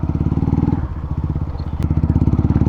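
A Hero Xtreme 125R motorcycle fitted with a full-system Akrapovic exhaust idles and revs nearby, a loud, rapid pulsing thump with a brief dip and a sharp click partway through.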